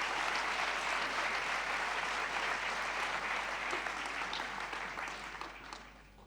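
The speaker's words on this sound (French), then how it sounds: "Donc je vous invite à les applaudir pour remettre le prix." An audience at an award ceremony applauds in a dense, even roar of clapping that holds steady, then thins and fades away toward the end.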